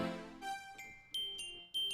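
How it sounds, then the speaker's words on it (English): Bright synth bells chime in sharp struck notes layered over a sustained synth pad, entering in a few distinct hits over the held chord. "so there's some bells on top"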